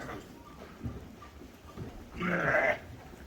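Lambs on a farm bleating, with one clear, fairly loud bleat near the end after faint, scattered animal sounds, and people talking nearby.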